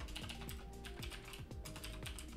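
Rapid typing on a computer keyboard while writing in Notepad, a steady close-up clatter of key presses with no talking.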